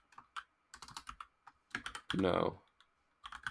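Bursts of keystrokes on a computer keyboard while entering Forth programming code, clustered clicks in short runs with pauses between, close and moderately quiet, with a brief spoken word partway through.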